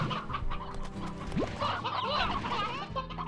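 Chickens cluck in the farming video game Slime Rancher, several hens clucking close and fairly loud over game music and ambient tones.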